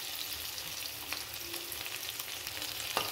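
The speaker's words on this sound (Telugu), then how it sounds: "ఇప్పుడు నేను పచ్చిమిరపకాయలు ఉల్లిపాయలు వేస్తున్నాను." Green chillies and onions fry in hot oil for a potato curry, producing a constant close sizzle with a few light stirring clicks and a sharper knock just before the end.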